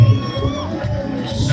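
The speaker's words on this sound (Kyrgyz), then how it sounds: "Кол чабуулар." Crowd at a New Year celebration in Osh cheering and applauding, a steady loud mass of voices and clapping with shouts rising at the start and end.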